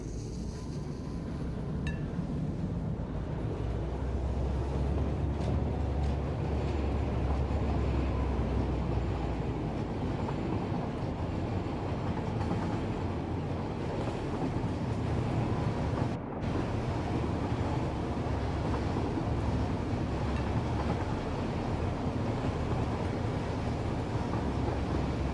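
A long nine-car train runs steadily in the video game Satisfactory, with a continuous loud rumbling roll and wind-like noise throughout and no talking.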